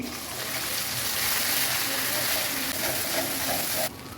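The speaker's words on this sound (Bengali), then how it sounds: "এটাকে একটু ভালো করে ভেজে নিতে হবে।" Chili, and likely garlic, fries in oil in a pan for a red spinach pickle, a steady soft sizzle with faint crackles that cuts off sharply near the end.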